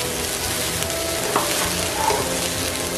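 Rice and cauliflower stir-frying in a hot pan while being tossed, a steady loud sizzle with faint scraping stirs, continuous and close.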